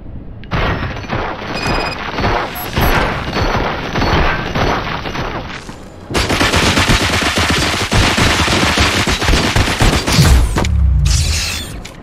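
Sustained automatic gunfire in the Robocop Rogue City video game, loud and dense, rattling almost without pause, with booming impacts and a brief break midway before heavier shooting resumes.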